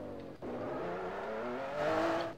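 Enzo Ferrari in Garry's Mod speeding along with a steady high engine whine, its revs climbing near the end before the sound cuts off; no talking.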